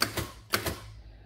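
Two pairs of mechanical clacks from a 1909 Adler 7 typewriter, crisp and close, with a short gap between pairs and a fading tail.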